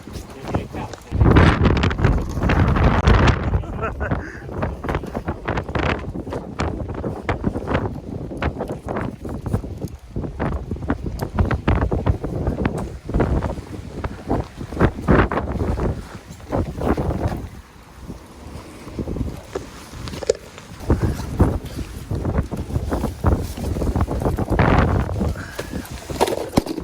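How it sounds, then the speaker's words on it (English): Heavy wind gusts buffet the microphone on the water during a fishing trip, with rough rumbling bursts, splashing and boat noise throughout, and voices talking intermittently. "because it is so windy and the current is so strong"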